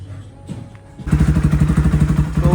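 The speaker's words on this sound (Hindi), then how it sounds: "उसके बाद आपको हम सुनाते हैं बाइक की फाइनल साउंड।" A Jawa 42 Bobber motorcycle with an uplifted direct-fit exhaust. A soft thump is followed by the engine catching into a loud, close, pulsing idle thump that runs steadily to the end.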